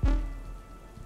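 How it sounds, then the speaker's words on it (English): Rain and thunder during a storm, a heavy low rumble swelling at the start over a steady wash of falling rain that gradually settles, with no voices. "the rain and thunder had intensified to abnormal levels"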